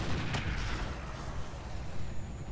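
A bomb rack explosion in the mech combat video game Roguetech, a deep rumbling boom with a sharp crack at the start, then a low rolling roar that carries on at moderate loudness.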